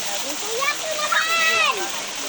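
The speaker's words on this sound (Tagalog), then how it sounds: "Ayan guys, nandito na nga kami sa ilog." River water splashing and rushing as children bathe in a river during a picnic, a steady close wash of spray under overlapping children's voices.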